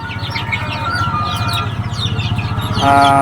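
A crowd of Fayoumi chickens on a farm clucking and cheeping continuously, close and dense, with a sharper burst of calls near the end.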